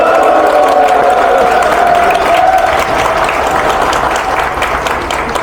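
A crowd at an inauguration ceremony for the second president of a Korean association bursts into loud, dense applause with some cheering, holding strong for several seconds before slowly easing off.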